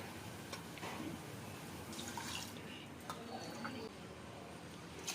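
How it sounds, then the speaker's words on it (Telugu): Glasses of water are poured into a cooking pot while making sweet pongal, giving soft splashing and dripping with a few brief louder pours. It is quiet and close, with no talking. "ఇప్పుడు మనం 4 గ్లాసుల నీళ్లు పోసుకోవాలి."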